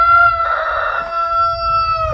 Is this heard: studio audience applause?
no